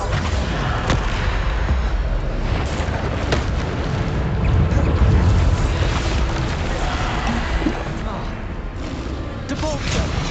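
Repeated explosive spell blasts from Hogwarts Legacy combat, with dense booming impacts and rumbling debris layered continuously under shouted spell incantations and game effects.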